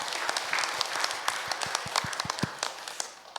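Church congregation applauding to welcome new members, a fairly sparse, uneven clapping with distinct individual hand claps standing out in a reverberant sanctuary, steady throughout and tapering off at the end.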